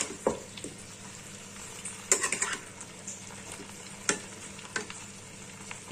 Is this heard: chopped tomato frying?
yes